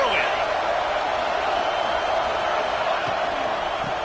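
A stadium crowd at a football game keeps up a loud, dense roar that stays constant throughout, with cheering swells mixed in.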